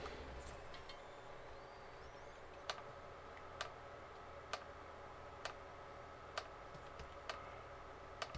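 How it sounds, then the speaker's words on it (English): Front drive shaft of an SCX24 RC crawler with an Injora MBL32 G2 brushless system clicking in sharp, faint, evenly spaced ticks roughly once a second over a quiet motor hum. "Besides the clicking, that's my drive shaft."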